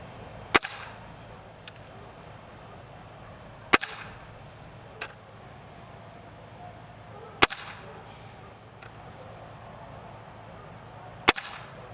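A Walther Falcon Hunter air rifle with an Air Venturi gas spring firing JSB pellets: four sharp, loud cracks spaced a few seconds apart, each followed by a faint, smaller thump, with quiet between.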